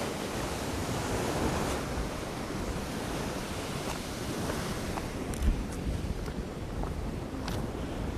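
Ocean surf washes steadily against sea cliffs riddled with blowholes, a dense continuous roar with wind buffeting the microphone and a brief louder surge partway through.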